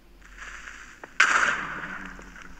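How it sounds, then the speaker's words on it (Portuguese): A creeper explodes in the video game Minecraft with one sharp blast that cuts through a quiet hum, then a crackling, hissing decay lasting over a second as it fades away. "Um creeper que explodiu."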